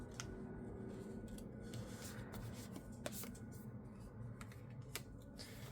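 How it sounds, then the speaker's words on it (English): A few quick riffle shuffles of a deck of playing cards, crisp papery flutters and snaps at close range in a quiet room, with no talking. "I'm just gonna do a couple shuffles and then just pull a card"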